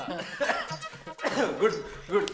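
A man coughs a few times, throaty and close, in short bursts with brief pauses between them.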